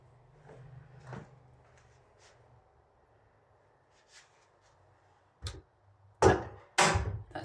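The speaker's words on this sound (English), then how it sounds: "But that just closes my door. Nice and slowly." A living room door swings shut slowly under a door closer: quiet faint shuffling at first, then a few sharp wooden knocks and thuds close by as it reaches the frame and latches.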